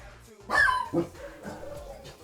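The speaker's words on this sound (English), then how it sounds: "Sorry, my dogs are being really noisy today." Dogs barking indoors at home, two close, sharp barks followed by quieter whimpering yips, while a gamer talks nearby.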